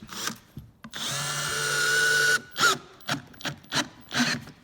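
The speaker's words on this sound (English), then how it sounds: "So now we're going to screw these in" A power drill drives screws into a wooden skate ledge box, one long whining burst that rises slightly in pitch, followed by several short clicking and rubbing handling sounds, close and loud with no talk.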